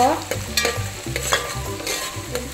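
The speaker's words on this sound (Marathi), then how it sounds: "कांदा जो आपण कापलेला होता तो पण याच्यामध्ये घालून चांगला परतून घ्यायचा आहे लालसर" Chopped onions sauté in a pan for mutton curry, with a steady sizzle and repeated scrapes of a spoon stirring them close by, no talking.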